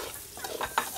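Minced meat for Vietnamese nem nuong stirred in a hot pan, sizzling steadily with brief scraping strokes of a utensil against the pan, close and fairly quiet, with no talking.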